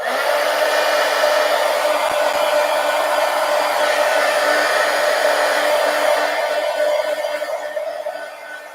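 A hair dryer blows steadily and loudly up close over a collage journal page, a constant whoosh that fades off in the final second.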